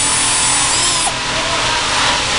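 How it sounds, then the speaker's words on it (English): A power drill whines at high, steady speed while boring a small pilot hole, the loud motor tone running continuously with a slight shift in pitch as the bit bites in. "You're gonna drill a pilot hole, just something small to start with."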